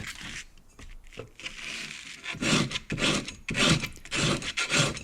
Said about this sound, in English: For the outside, I use a board and a piece of sandpaper and just sand it off the outside.